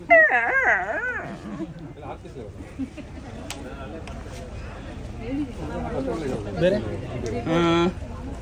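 A mimicry artist uses his voice to imitate a hungry dog, opening with a wavering howl and moving into whimpers, yips and whines, with a louder whining cry near the end.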